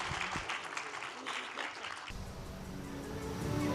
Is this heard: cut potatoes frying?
no